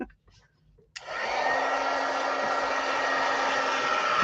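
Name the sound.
heat embossing tool blowing hot air on card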